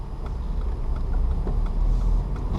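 A manual-transmission car rolls slowly in first gear toward a driveway, giving a steady, close low engine drone with faint road rumble throughout.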